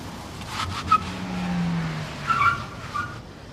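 A car going fast in the rain and skidding, a short tire screech over a passing engine, with a couple of quick squeals that follow close by.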